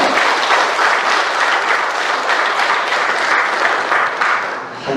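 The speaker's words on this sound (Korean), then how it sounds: "우리 하나님 앞에 큰 박수 한번 열어드립니다" A congregation at a Sunday morning church worship service claps loudly and continuously, a thick, even wash of applause that holds steady for the whole stretch.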